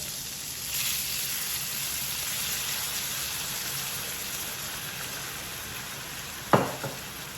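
Dry white wine sizzles on rainbow trout in a hot pan, a steady hissing fry that runs throughout, with a sharp knock of cookware near the end.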